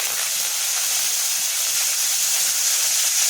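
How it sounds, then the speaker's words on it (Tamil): Fenugreek and mustard seeds crackle and sizzle in hot oil while tempering for a ladies' finger tamarind gravy, a steady close hiss with fine popping throughout and no talk. "வெந்தயம் கடுகை போட்டு படபடன்னு பொரிய விட்டு"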